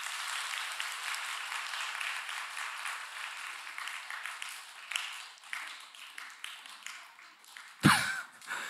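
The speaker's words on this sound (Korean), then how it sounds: "박수 한 번 시작. 박수 두 번 시작. 박수 세 번 시작." Church congregation clapping together in a dense burst of applause that runs steadily for several seconds, then tapers off, ending with a sharp louder knock or clap.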